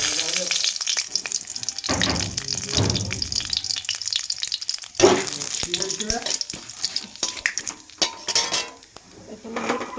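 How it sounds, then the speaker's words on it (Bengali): Panch phoron seeds and a bay leaf hit hot oil in a pan with a crackling sizzle, mixed with sharp metal clinks of a utensil against the pan, close and busy throughout. "তেল গরম হয়ে গেছে, এটাতে আগে 5 ফোড়ন দিয়ে দেব।"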